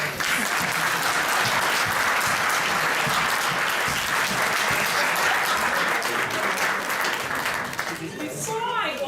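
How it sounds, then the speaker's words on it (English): Loud, prolonged applause from the audience at a SOAS debate on Biafra honours the panelists, a thick unbroken roar of clapping that eases slightly near the end as a voice starts to come through. "Now you can all clap for our panelists."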